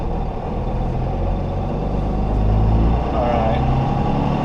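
A Cummins-swapped Chevrolet Silverado 2500HD pickup driving on a cold day in South Georgia, its engine giving a steady, loud low drone that swells slightly midway and never lets up.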